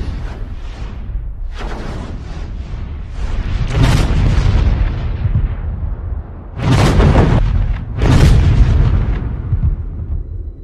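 A CAESAR self-propelled howitzer fires in a series of heavy booming blasts, with three especially loud, close detonations standing out over a rumbling background, no talking.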